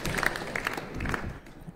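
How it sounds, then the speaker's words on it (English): A crowd applauds a shot in a short mat bowls final at the Norwegian Open, with a short burst of close clapping that thins out and fades within about two seconds. "Good appreciation from the crowd."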